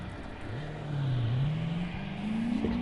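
Cars in the CarX driving game, a supercharged 6.2 V8 and a Z, rev up, with one engine tone climbing and dipping then rising steadily, close and continuous with no talking.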